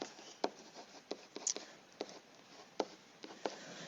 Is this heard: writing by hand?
yes